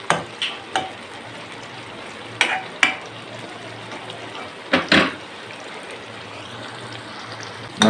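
Round tinda gourd fries in a pan with a steady, close sizzle, broken by a few sharp clatters and stirring knocks; no one speaks.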